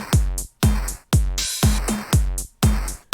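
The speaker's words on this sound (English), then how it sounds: "I made this drum rhythm that sounds like this" A punchy electronic drum pattern: booming kicks with snappy hits and hi-hat ticks in a steady, repeating groove, loud and close with no voices.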